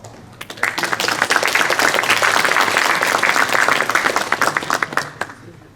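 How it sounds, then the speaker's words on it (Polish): Contest winners at a Polish technical university get a round of applause, which swells quickly from a few claps into a loud, crisp burst of clapping before thinning out. "Wielkie brawa jeszcze raz."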